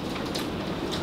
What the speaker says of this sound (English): If you hear a lot of noise in the background, we are having a crazy, gigantic thunderstorm.